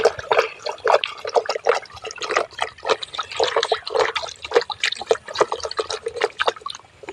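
Green Plus plant growth regulator liquid is stirred and sloshed for a cucumber crop spray, giving a steady run of close splashing and trickling bursts with no pauses.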